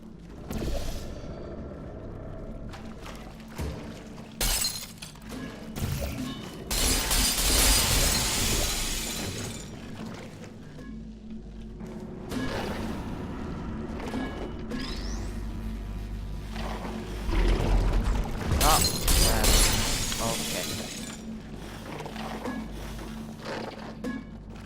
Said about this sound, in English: If you break the box, this glass box